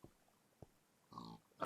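A pig in modded Minecraft gives short, soft grunts: two quick clicks followed by a nasal oink, then a louder squealing oink at the end, quiet and close.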